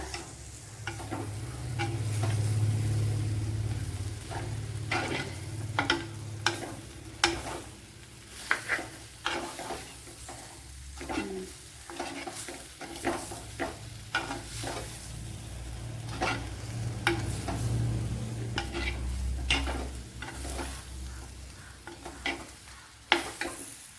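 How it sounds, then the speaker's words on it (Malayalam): Masala being stirred and rubbed into cooked tapioca (kappa) in a pan for Kerala-style kappa masala, giving a steady scraping, sizzling stir with repeated spoon scrapes and clacks against the pan throughout. "ഈ മസാലയെല്ലാം ഈ കപ്പയിലോട്ടൊന്ന് പുരട്ടിയെടുക്കാം"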